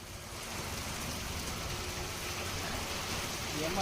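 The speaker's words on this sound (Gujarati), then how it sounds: "ગીર સોમનાથ પંથક તેમજ તાલાળાના ગ્રામ્ય વિસ્તારોમાં ધીમી ધારે વરસાદનું આગમન થયું।" Light rain falling over the Gir Somnath villages, a soft, even patter and hiss that holds steady and swells slightly at the end, heard from fairly far off.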